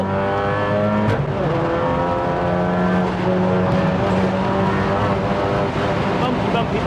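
A 500 BHP track-spec MK7 Golf R lapping the Nürburgring holds a loud, sustained engine drone, its pitch shifting through the gears, and a voice talks over it.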